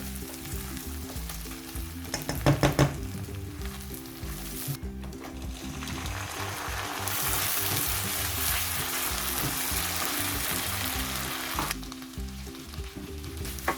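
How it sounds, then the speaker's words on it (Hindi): Garlic ginger paste sizzles and fries steadily in a pan, with a few scraping stirs, continuous and close. "लहसुन अदरक का पेस्ट शामिल करने के बाद हम इसे 1 से 2 मिनट अच्छी तरह से भून लेंगे"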